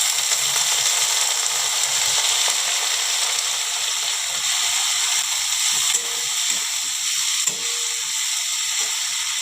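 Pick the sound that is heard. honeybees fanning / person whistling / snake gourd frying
snake gourd frying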